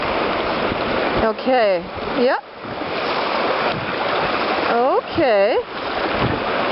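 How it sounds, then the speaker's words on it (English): Loud, continuous white-water rush and splashing around a small electric-motor boat on Ontario's Grand River near Brantford, close and steady throughout, with people talking briefly over it. "Got a little bit of splash happening."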